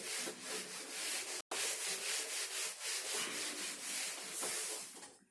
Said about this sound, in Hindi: डायग्राम रब कर दिया